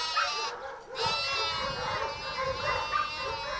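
A sheep lost in a forest at night bleats in distress with long, wavering, loud cries close by, repeated almost without pause, while a dog's barking joins in among them.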